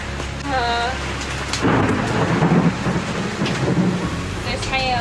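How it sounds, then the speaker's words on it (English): A sailboat at sea is caught in a storm, with hail and heavy rain drumming across the deck in a dense, loud clatter that swells in bursts, while voices speak briefly near the start and end. "There's hail. A bunch of hail bouncing in, hitting us."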